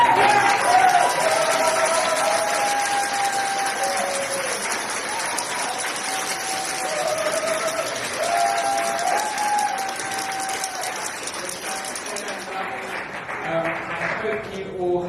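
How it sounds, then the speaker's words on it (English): Sustained audience applause with some cheering fills an awards ceremony for a manga competition, steady and full throughout, thinning slightly near the end, with faint voices mixed into the crowd noise. "But the one person that I would love for everyone to give a big round of applause to is Mark."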